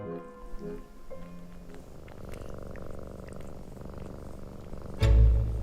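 A cat purrs close up in a low, continuous rumble, with faint background sounds and a louder thump near the end.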